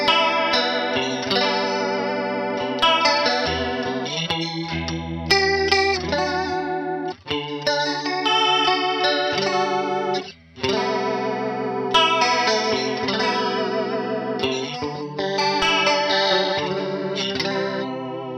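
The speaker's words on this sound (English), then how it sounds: "You have the CH1 mode here, which is based on the Arion stereo chorus." An electric guitar plays clean chords and melodic runs through a NUX Mini Core chorus pedal in its Arion stereo chorus mode, giving a lush, shimmering, wavering tone that continues with brief pauses between phrases.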